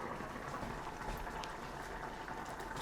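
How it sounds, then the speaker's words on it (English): Thick pasta sauce for pasta con ceci bubbling and popping steadily in a pot, a close, continuous simmer with small bursts throughout. "Sauce is boiling away."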